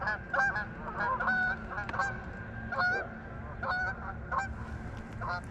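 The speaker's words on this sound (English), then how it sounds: "those geese are so loud." Geese honking loudly near a muddy winter bass-fishing spot, repeated nasal honks in irregular bursts over faint background rumble.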